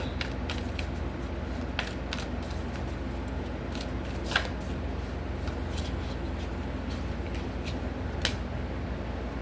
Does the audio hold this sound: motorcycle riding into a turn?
no